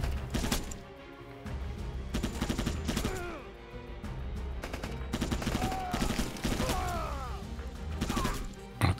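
Rapid gunfire in the Rambo video game, dense bursts of automatic shots and impacts mixed with game sound effects and crashes, continuous and loud throughout.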